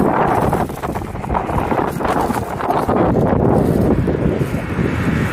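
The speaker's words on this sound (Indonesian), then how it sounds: "Angin juga udah mulai dingin di sini Pak." Cold October autumn wind blows outdoors near a bridge in Japan in the early evening, a steady, loud rushing roar against the microphone that persists without a break.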